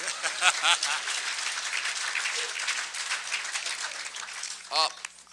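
Audience at a Chicago City Hall centennial book event gives a steady round of applause for a speaker, moderately close, with a few voices talking over the clapping.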